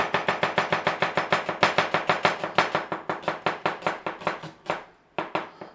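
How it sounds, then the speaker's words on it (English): Knife slicing through a halved onion on a cutting board, a fast steady run of crisp chopping strokes close up, slowing and thinning toward the end with a brief pause near the finish. "Just cut it in half, turn your onion round and just slice it"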